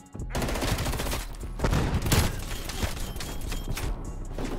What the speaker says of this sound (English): Definitely shoot at him now.